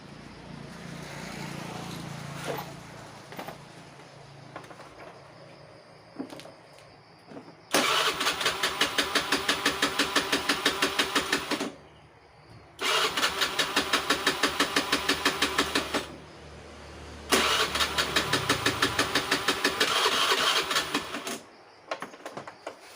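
A Honda Scoopy-i scooter with an electric-start fault cranks on the starter in three long bursts, each a steady rapid whir lasting a few seconds without catching, with quieter mechanical handling noises before and after.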